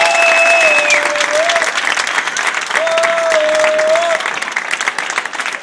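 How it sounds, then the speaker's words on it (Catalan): A big crowd applauds loudly at an election-night rally, dense continuous clapping with whistles and cheers cutting through, holding steady and then thinning slightly toward the end. "Un aplaudiment, sisplau."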